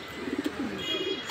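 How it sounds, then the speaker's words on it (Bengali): A racing homer pigeon gives a short, soft series of low coos, a few quick pulses followed by a drawn-out murmur, close and quiet. "এটা বিআরপিওএ ক্লাব থেকে মর্নিং বেল লফটের কবুতর"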